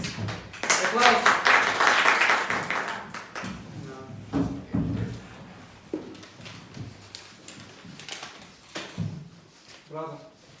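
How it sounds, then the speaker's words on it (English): Class applause for a microteaching group at a TESOL training session in Angren: a dense burst of clapping in the opening seconds that fades as people begin talking over it. "Applause"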